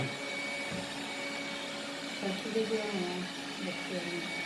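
A Dreame F9 robot vacuum mop runs with a steady whirring drone close by, and a person speaks over it for part of the time.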